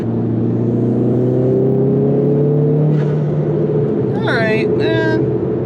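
A car engine with a freshly flashed tune, sluggish on a hot day, hums and rises steadily while driving, a close, loud droning tone that climbs in pitch before someone briefly speaks.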